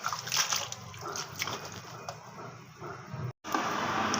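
Fresh fenugreek (methi) leaves being washed by hand in water: close, soft sloshing and splashing with small trickles and a brief break near the end, with no talking.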